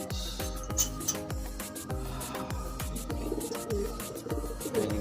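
Pigeons coo in a quick, regular series of low throbbing calls, close by, with nothing else over them.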